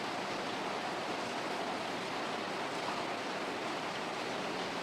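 Steady broadband rush of water running from a garden tap, a continuous hiss with no breaks, fairly loud and close, with no voices.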